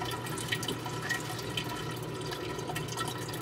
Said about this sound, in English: My fish tank needs water. That's what you're hearing.